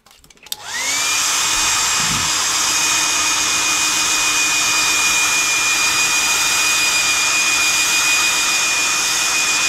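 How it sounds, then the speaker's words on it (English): A hair dryer switches on and blows steadily, a loud constant whoosh with a high whine that runs unbroken to the end. "And I'm going to get my hair dryer."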